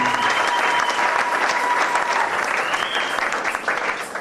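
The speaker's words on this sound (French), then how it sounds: "Acclamez très fort le Seigneur." A church congregation at a French-language worship service claps and cheers, sustained dense applause throughout, with a faint tonal whine above it.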